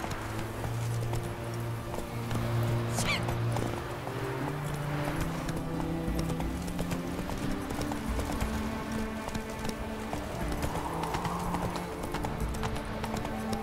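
Roach, a horse in The Witcher 3, trots with rhythmic clip-clopping hooves, faint and steady, under a low ambient game hum with a brief whinny-like cry early on.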